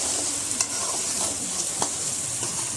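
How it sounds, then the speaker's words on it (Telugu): Ground spice paste for a chicken fry sizzles in hot oil with a dense, continuous hiss. Occasional soft clicks of stirring are close and clear, and no one speaks. "మనం గ్రైండ్ చేసి పెట్టిన పేస్ట్ కూడా ఈ ఆయిల్లోనే వేసి పచ్చివాసన పోయేంత వరకు చక్కగా ఫ్రై అయ్యేలాగా వేయించుకోవాలన్నమాట"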